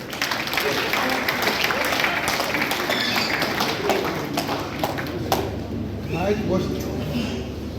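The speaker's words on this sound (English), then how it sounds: "Applause, brethren." Applause from assembled brethren at a Freemasonry half-yearly communication in Nigeria, a steady wash of clapping that thins and fades toward the end, with a voice talking over it later on.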